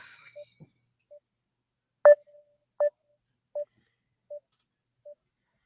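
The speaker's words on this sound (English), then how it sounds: "I'll try to call him on Facebook Messenger" Facebook Messenger call ringing: a single tone repeating about every three-quarters of a second, with a few soft clicks and a brief burst at the start. The ringing is faint and heard alone, with no talk.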